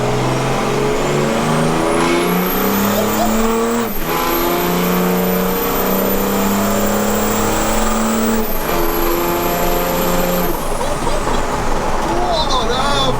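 A modified mail truck accelerates hard in second gear, its loud engine revving steadily upward, with a brief dip and a climb again. The roar runs close and constant throughout, and people talk faintly underneath.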